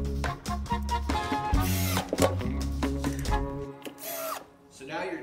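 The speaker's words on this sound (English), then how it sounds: "I'm just going to put screws." A power drill drives screws into pine boards for a cooler box, whirring in several short, close bursts of rising and falling whine before going quiet near the end.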